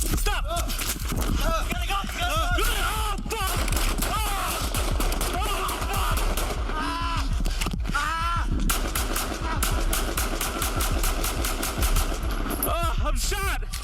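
Gunshots at close range during a police arrest, a rapid burst of loud, sharp cracks in quick succession mixed with frantic shouting voices throughout.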